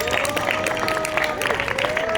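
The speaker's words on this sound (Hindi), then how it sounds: "जोरदार तालियों से स्वागत कीजिए" An audience applauds at an event marking the International Day of Persons with Disabilities, with brisk, dense clapping from a crowd throughout and some voices mixed in.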